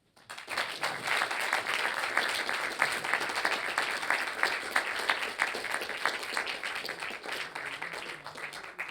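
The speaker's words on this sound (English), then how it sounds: "just like to give you another round of applause" Sustained applause from an audience after a university inaugural lecture, steady dense clapping that holds for several seconds before tapering slightly at the end.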